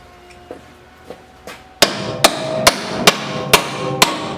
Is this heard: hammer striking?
yes